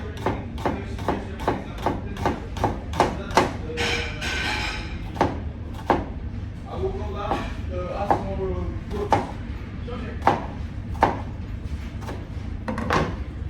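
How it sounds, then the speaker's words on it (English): A knife chops an onion on a cutting board for chicken chasseur, giving a steady series of crisp, even knocks roughly every half second, close and distinct, with a few softer sliding cuts between them. "Then we need to cut straight without taking away any pieces out of it."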